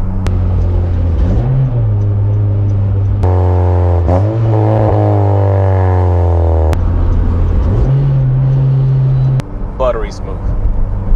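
A manual car fitted with a Hybrid Racing short shifter, its engine note stepping up and settling through several gear changes and downshifts. Someone talks steadily over the close, continuous drone.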